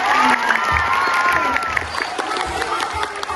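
A school audience at the SMPN 25 Bandar Lampung Maulid event claps and cheers for the student Damar Prambudi. The clapping is loud and dense, with children's shouts and whoops mixed in and some voices underneath.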